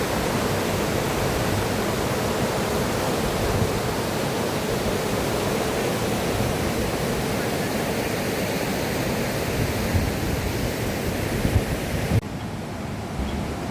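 Strong current of the Mutha river near Pune rushing steadily in February, a loud, continuous broadband roar of flowing water with no talk, sustained at even level throughout and briefly dipping at the very end.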